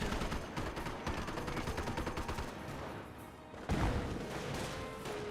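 Pintle-mounted machine gun fire in the video game Company of Heroes, rapid bursts of rattling shots that run steadily, with a louder impact near the end amid battle noise.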